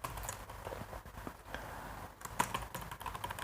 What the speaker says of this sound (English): So simply I will type